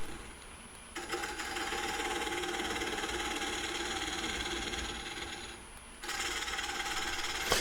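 A wood lathe spins a large, heavy mesquite live-edge bowl at a slower speed than usual, giving a steady whirring drone with scraping tool contact. The sound dips briefly and then resumes, with no voices.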